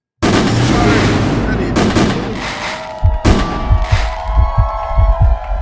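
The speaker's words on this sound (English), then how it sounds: "Let me get you" Fireworks sound effect: a loud, dense burst of crackling bangs that trails into popping and scattered cracks, with a thin whistling tone in the middle and further sharp reports near the end.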